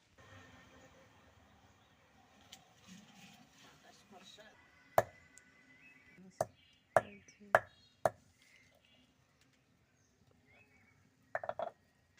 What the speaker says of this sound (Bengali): এগুলো একটু আস্ত দিবে পাটায় একটু ছেঁচে